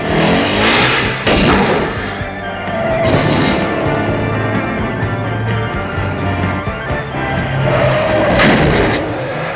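A car chase in a James Bond film, with Bond in a poor, underpowered car: loud booming gunfire and impacts mixed with a revving engine and screeching. The bursts come in clusters over a steady rumble.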